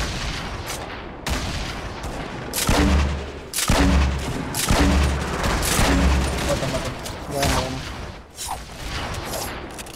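Rapid bursts of heavy gunfire and booming grenade launcher explosions from Fortnite Battle Royale, loud and continuous with short gaps.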